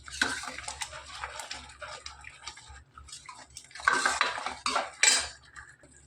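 Yogurt and cream are stirred briskly in a cooking pot, giving irregular metallic clinks and scrapes of a spoon against the pot, close by and swelling in louder bursts.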